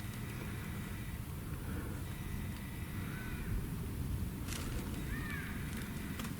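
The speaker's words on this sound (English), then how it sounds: "That's a bird." A bird calls a few times in a cemetery, thin drawn-out cries over a steady wash of wind or distant traffic, fairly faint and set back from the listener.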